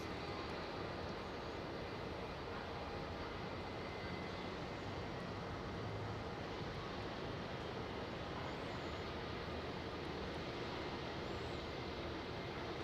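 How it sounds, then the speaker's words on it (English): An Air New Zealand Boeing 777 departing Melbourne Airport from runway 16 gives a steady, broad jet roar that holds throughout, heard from a distance at low level. "So there's the Air New Zealand triple. Heading back home to Auckland from runway 16."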